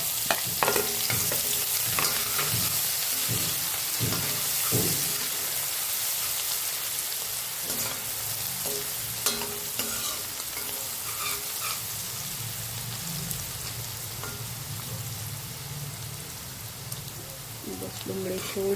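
Chopped onion frying in oil with cumin and asafoetida makes a continuous crackling sizzle. Scattered utensil clicks and stirring knocks come through at the start, with faint talk in the background at times.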